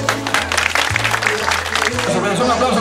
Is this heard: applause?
yes